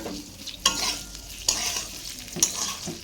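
Chopped carrot, capsicum and beans being stirred in a pan, three sharp spatula clanks against the metal over a light continuous sizzle, close and distinct, with no talking.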